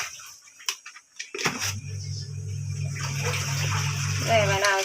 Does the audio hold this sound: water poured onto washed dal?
yes